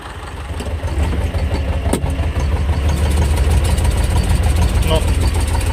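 A T-25 tractor engine runs steadily at a throaty idle while pulling a Polish segment mower, close by and loud, with a sharp clank partway through and faint speech mixed in.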